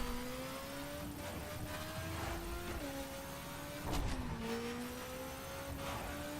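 A motorbike engine in the racing game The Crew holds a steady droning whine during a long wheelie, its pitch dipping and rising slightly with throttle shifts, alone without talk.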